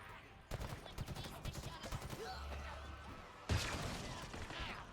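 Gunfire from Halo Infinite rattles in quick, repeated shots through fast game action, fairly faint, with a heavier blast near the end and no talking.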